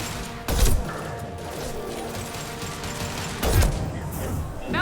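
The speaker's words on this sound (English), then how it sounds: "This will put them down. Firing concussive shot!" Concussive shot fired in the video game Mass Effect 2: two heavy, punchy blasts about three seconds apart over a steady bed of game ambience.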